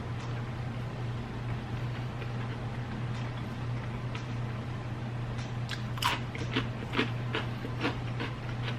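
Close biting and crunchy chewing of a homemade macro-friendly burger, several soft crunches clustered near the end over a steady low hum, with no talking.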